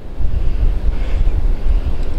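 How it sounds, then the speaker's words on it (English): Strong gusting wind buffets the microphone beside an estuary, a loud continuous low rumble with surging gusts and no voices. "This wind's so strong today"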